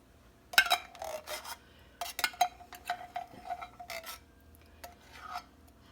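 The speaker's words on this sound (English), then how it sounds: "I'm going to have to use a knife or a spoon to get that out." A knife or spoon scrapes food out of a dish for a cheesy Doritos chicken casserole, metal rasping and clinking against the container in several short, uneven bursts with brief pauses.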